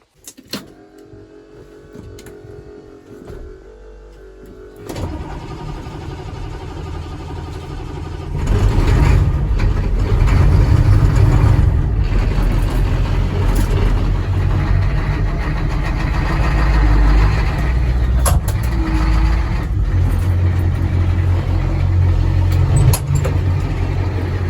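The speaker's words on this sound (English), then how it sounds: "get this roller fired up" A farm grain roller for rolling barley starts up: a quiet idle with small clicks, then a louder motor kicks in around five seconds and swells into a steady, heavy mechanical drone that runs to the end.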